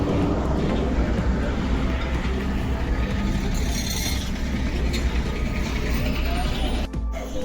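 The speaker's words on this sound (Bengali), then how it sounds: "বেরিয়ে গেছে ট্রেনটা" A train rumbles past close by at a railway station with a heavy, continuous roar and rattling wagons, drowning out the surroundings.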